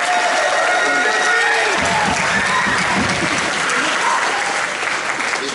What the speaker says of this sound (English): Let's give Jeffrey a round of applause.